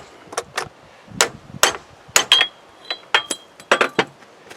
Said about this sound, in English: we drive the carrier out of the bearing.